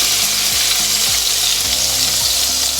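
Ginger garlic paste sizzles loudly in a frying pan as a spice masala for a potato and pea dish cooks, a steady dense hiss that stays close and constant throughout.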